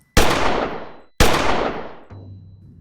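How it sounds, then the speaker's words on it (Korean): Two loud gunshots ring out about a second apart outside a police station, each with a long decaying echo, followed by a low hum. "하지만 총소리는 이후에도 몇 번씩 더 반복해서 들려왔고"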